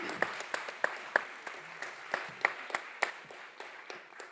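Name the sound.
audience applause for arbitration panel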